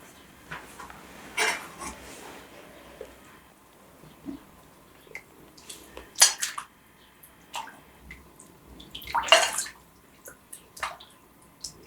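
Lenten borscht is ladled into bowls, liquid splashing and pouring in a few separate bursts, with soft clinks of a ladle against pots and bowls in a quiet room.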